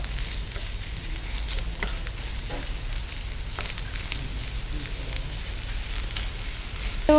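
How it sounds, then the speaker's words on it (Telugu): Coconut stuffing with jaggery and dry fruits frying in a pan gives a steady close sizzle with faint stirring scrapes, continuous and even throughout without talk. "బెల్లం యాడ్ చేసి మనం దాన్ని మంచిగా ఫ్రై చేసుకుంటున్నాం"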